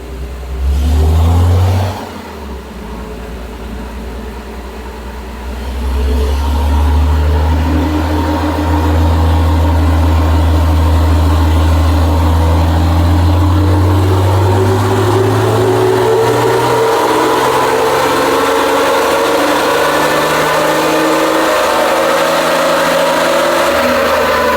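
A car engine on a dynamometer spinning the rollers, revving hard, dropping briefly, then climbing in a long steady pull that stays loud and close throughout.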